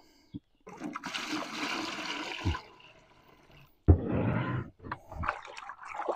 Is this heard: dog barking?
no